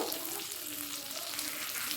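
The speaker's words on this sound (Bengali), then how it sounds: "অপর পিঠটাও ভেজে নিচ্ছি" Sea chanda fish sizzles in a hot pan as its second side fries, giving a steady, close, even hiss that carries on with no talking.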